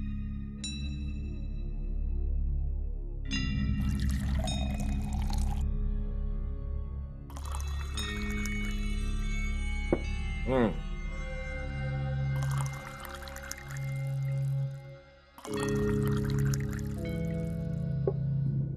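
A drink is poured into a glass in a chilly-weather scene of a Marathi TV serial, a soft liquid trickle running under continuous background music.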